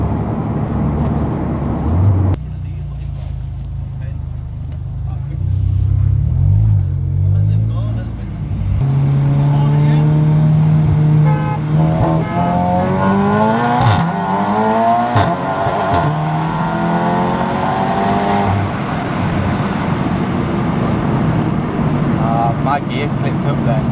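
An Audi S3 and an Audi RS6 V10 race: engines rev and accelerate hard with rising gear pulls, heard from inside a car, loud and close, with people talking over the engine noise.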